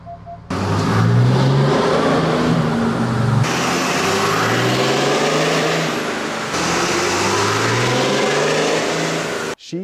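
A Cummins diesel truck engine on a dyno with its stock intake revs hard and loud, sustained roaring pulls broken into three long stretches, the pitch climbing through each before cutting off abruptly.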